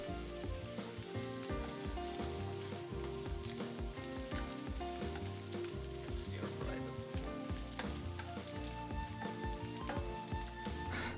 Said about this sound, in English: we can add the shrimp. Just give it, a light fry.